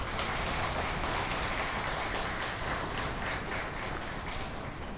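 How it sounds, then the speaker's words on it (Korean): A church congregation applauds during a Korean devotional worship service: steady, dense clapping from many hands, like rainfall, held at an even level throughout with no speaking. "여러분 자신을 축하를 드리면서 하나님께 제 말씀이 있기 전에 감사의 박수를 먼저 보내겠습니다"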